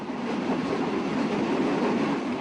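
A passenger train rolls south toward Malaysia, a loud steady rumble and rattle of the carriage from inside, with no pauses or voices.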